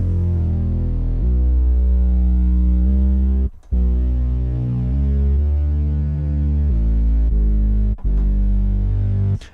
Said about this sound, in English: And there is some distortion. It's the log distortion.